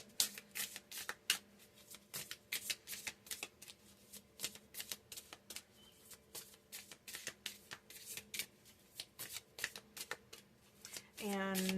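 Crystal oracle cards are shuffled by hand in a quiet room, a soft, rapid riffling that comes in short, repeated bursts.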